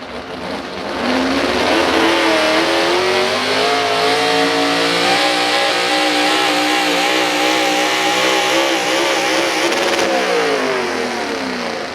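A 4,500-pound small block pulling truck roars at full throttle at a truck and tractor pull, its engine note loud and sustained with wavering revs over about twelve seconds.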